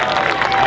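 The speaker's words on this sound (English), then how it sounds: "Give her a round of applause" Audience at a cosplay contest at an Orlando Japan festival applauds and cheers, a dense, loud wash of clapping from a crowd close by, lasting under a second.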